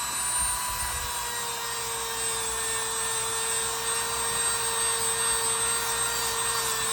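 A Dremel rotary tool grinds the bolsters of a 1942-45 Queen City Swell End Jack knife, a steady high-pitched whine running continuously and close up without pause.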